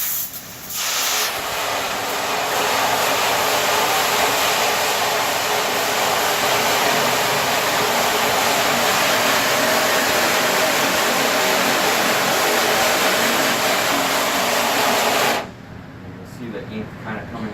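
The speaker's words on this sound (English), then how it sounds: "And then we have a pressure washer to just sort of finish it off." A pressure washer sprays water steadily to wash ink and emulsion off in a darkroom. The hiss is loud and continuous for about fourteen seconds, then cuts off abruptly to quieter background noise.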